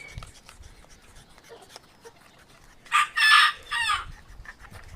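Chickens heard on a farm: after a few seconds of quiet rustling, a rooster crows loudly and close by in a few bursts alongside some clucking.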